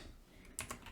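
A few keystrokes on a computer keyboard while typing Python code, two quick soft clicks close by after a near-silent start.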